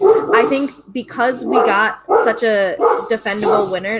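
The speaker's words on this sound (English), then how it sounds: "sorry for my dog" An excited dog barks in a home while a person keeps talking over it, the barks blended into the steady flow of speech.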